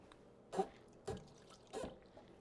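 Three brief, quiet splashes of water being poured into a thermal cooker pot, spaced about half a second apart, close by in an otherwise quiet room.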